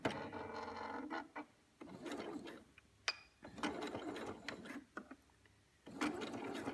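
A domestic sewing machine stitching along a fabric edge for a homemade outfit, running in several short bursts of fast rhythmic whirring separated by quiet pauses, close and fairly faint.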